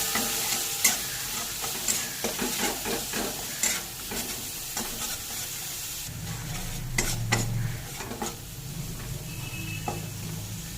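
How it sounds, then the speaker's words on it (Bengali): Spice paste of turmeric, coriander powder and salt being stirred and fried in oil for a vegetarian pointed gourd curry, with steady close sizzling and repeated scraping stirs that grow louder and busier in the second half. "দিয়ে মশলাটা একটু নেড়ে চেড়ে কষিয়ে নেব।"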